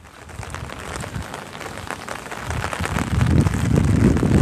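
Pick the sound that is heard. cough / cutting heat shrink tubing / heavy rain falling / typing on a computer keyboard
heavy rain falling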